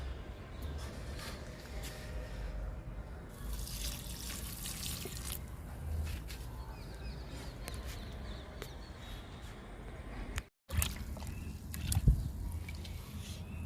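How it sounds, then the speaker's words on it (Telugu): Liquid fertilizer is poured onto a potted lemon plant outdoors, a faint trickling and splashing of water over a low background rumble, with a short break near the end. "నిమ్మ మొక్కకి ఇచ్చేద్దాము లిక్విడ్ని"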